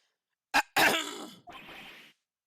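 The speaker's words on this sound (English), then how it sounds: "Maybe I should clear my throat?" A single close throat clearing in a video game: a short sharp burst followed by a longer rasping rumble, then a softer trailing grunt, with silence around it.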